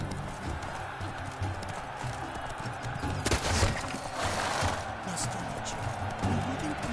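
Horse hooves pound rhythmically at a gallop in The Witcher 3: Blood and Wine, a steady clip-clop under a low ambient bed, moderately loud, with no voice over it.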